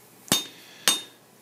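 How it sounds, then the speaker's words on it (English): A hammer forges a taper in steel on an anvil, three sharp ringing metallic blows spaced about half a second apart, close and loud with quiet gaps between. "now that I'm forging on the anvil, that didn't create a lot of deep gouges"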